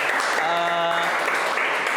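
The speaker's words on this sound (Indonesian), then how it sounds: "Tepuk tangan untuk dua temannya ini." A classroom of students applauds two classmates with brief, close group clapping, while a voice rings out over part of it.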